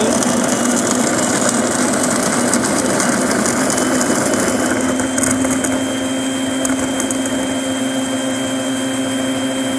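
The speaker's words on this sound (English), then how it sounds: "we're getting into the grind segment. Grinding it." A Bonaverde all-in-one roast, grind and brew coffee machine grinding coffee beans, a loud, constant mechanical whir and hum with faint rattling, steady throughout with no talking.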